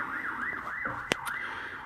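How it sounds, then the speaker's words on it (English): A fire engine siren wails in a steady rising-and-falling pattern, continuous and moderately distant, with a brief sharp click partway through and no talking. "Oh, it's a fire engine."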